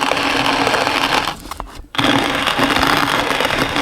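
A hand-cranked coffee grinder for camping crushing beans, a loud continuous gritty grinding up close that stops briefly for a moment before resuming at full strength.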